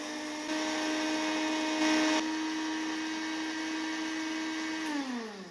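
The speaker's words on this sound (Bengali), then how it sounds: "কিছু ধনে আগে আমি কড়াতে একটু ভেজে ঠান্ডা করে নিয়েছিলাম, তারপরে জারের মধ্যে দিয়ে এবার আমি এটাকে গ্রাইন্ড করব" An electric mixer grinder jar grinding roasted coriander seeds, a steady high whine running for several seconds with a brief surge in pitch partway through before winding down.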